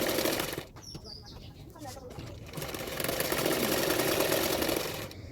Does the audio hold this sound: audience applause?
no